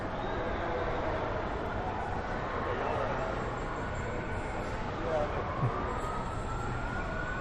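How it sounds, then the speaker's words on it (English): Multiple emergency vehicle sirens approach during a shooting incident at the Houston rodeo, heard as faint wavering wails in the distance under a dense, steady crowd and street noise. "We have multiple sirens coming in."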